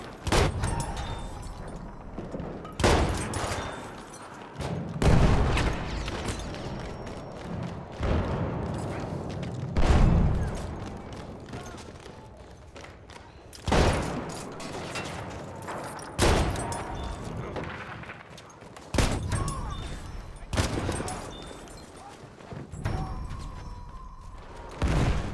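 Shotgun blasts in the video game Battlefield 1 boom out as repeated sharp, heavy shots at irregular intervals, each with a short decaying tail, mixed with other gunfire and game noise.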